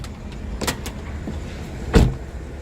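Door lock actuator on a Mercedes C320, sharp mechanical clunks and short whirring clicks close by, with one louder thunk near the end and no voices.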